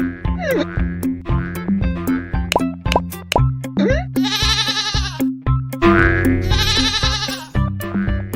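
Repeated goat-like bleats break through a busy, loud mix of plopping and boinging cartoonish sound effects, with two longer wavering bleats near the middle and end.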